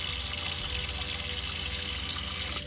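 Water from an RV's pump runs steadily into a sink in a Jayco camper, a continuous close splashing hiss with a low pump hum underneath, stopping abruptly at the end.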